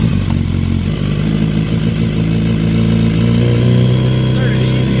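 A BMW S1000RR sportbike, stripped down like a naked street bike, sits idling loud and close with a dense, steady mechanical clatter and low throb, its tone shifting slightly partway through.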